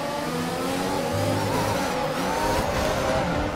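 A Formula 1 car in an F1 video game runs at speed near the pits, a steady loud engine whine with shifting tonal drones and a faint high tire hiss throughout.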